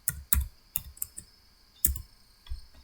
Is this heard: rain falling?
no